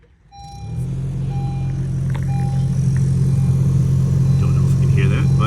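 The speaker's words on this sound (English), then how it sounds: "that's what's going on with the blower motor" A faulty blower motor in a 2016 Honda HR-V starts up and runs with a loud, steady low hum and drone inside the cabin, with faint rattles and a high whine on top.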